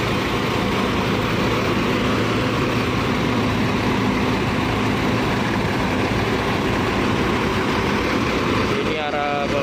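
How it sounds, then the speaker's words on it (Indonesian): Mercedes-Benz engine of a PMTOH intercity bus idling, a steady low rumble with a constant hum that runs throughout at close range and cuts out near the end. "Ini masih pakai mesin Mercedes-Benz."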